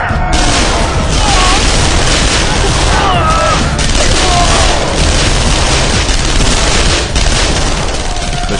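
Opening volley of rifle fire from a defensive line against charging Simba fighters: a loud, dense, sustained roar of overlapping gunfire and booms filling the whole stretch without a break.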